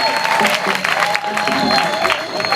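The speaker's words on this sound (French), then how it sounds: "On acclame très fort notre Seigneur Jésus" A village crowd gathered for a church celebration claps and cheers loudly and steadily throughout, dense and close, with voices mixed into the applause.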